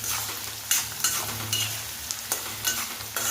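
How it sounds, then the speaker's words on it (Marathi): Medium-sized onion sautéing in a pan, a continuous close sizzle with regular scraping strokes of a spoon stirring through it. "आणि कांदा व्यवस्थित परतू द्यायचा."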